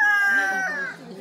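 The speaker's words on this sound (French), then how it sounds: "Il y a le coq qui arrive." A rooster calls once, close and fairly loud, a short tonal crow that fades over about a second.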